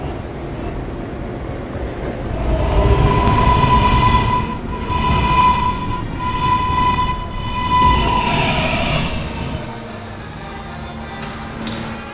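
A K subway train on the Potato City line rolls along with a steady rumble and wheel clatter, a sustained tonal whine running through it and surges in loudness as it travels, with no one speaking.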